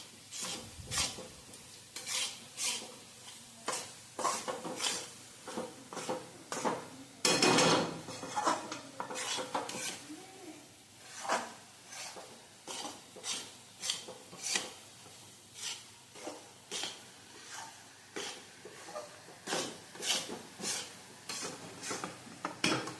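Flour roasting in ghee for sukhdi, a Gujarati sweet, is stirred in a pan, giving steady rhythmic scraping strokes of the spoon against the metal. A faint sizzle runs underneath, and a few louder clanks stand out.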